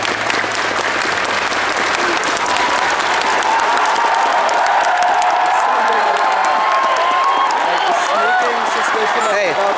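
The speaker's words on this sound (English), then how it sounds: "Slow clap." A large crowd in a giant convention ballroom at Minecon claps and cheers, loud and dense, with voices and whoops rising through the steady applause.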